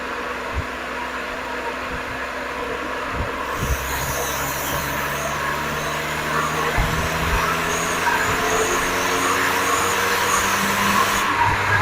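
A Renault Safrane V6 engine idling steadily at close range, a smooth low hum with faint rises in revs and no talking.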